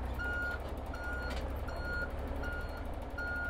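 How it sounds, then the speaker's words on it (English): A truck pulling a trailer, 16.5 meters long in all, sounds its reversing alarm: five evenly spaced, shrill electronic beeps over a low idling engine rumble. "It's me reversing the truck."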